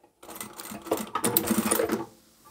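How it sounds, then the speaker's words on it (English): A sewing machine backstitches a fabric cutlery roll-up pouch, a short close burst of rapid clattering stitches lasting under two seconds, with a faint click before it starts and quiet after it stops. "And then I'll backstitch where I've marked my opening."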